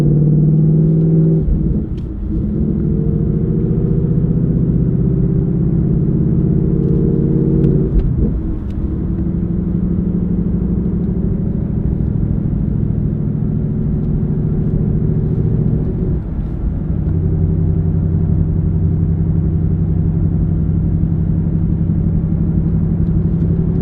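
Ford Mustang GT with a Borla S-Type exhaust and manual transmission driving, a steady deep exhaust drone heard from inside the car, dipping briefly at a few gear changes, with no talk.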